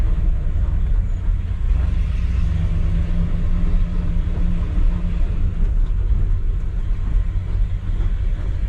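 Harbor Blue highboy hot rod on the move, giving a steady, loud low engine rumble and road drone with no pauses or talk.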